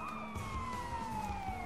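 Police car siren in the video game Sleeping Dogs, a steady wailing tone sliding slowly downward over a continuous low rumble of traffic and engine noise, loud and close throughout.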